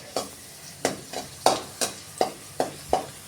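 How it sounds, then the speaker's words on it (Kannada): Slit green chillies frying in oil over a low flame, with close, sharp sizzling bursts and stirring scrapes repeating roughly every half second, no talking. "ಸಣ್ಣ ಉರಿ ಒಳಗೆ ನಾ ಇದನ್ನು ಫ್ರೈ ಮಾಡ್ಕೊಳಕತ್ತೀನಿ ನೋಡಿರಿ"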